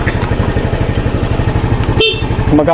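A scooter's engine idles with a steady chugging pulse, then its loud stock horn honks twice near the end.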